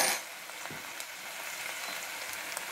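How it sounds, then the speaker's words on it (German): Cucumber pieces cooking gently in a pan with a teaspoon of sugar make a continuous soft sizzle, with faint crackles and light stirring throughout. "Und dann kommen jetzt hier die Gurken dazu."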